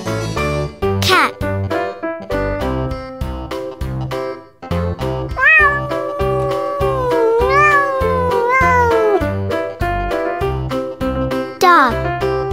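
A cat meows several times in drawn-out, rising and falling cries over a bouncy backing tune, with a voice nearby.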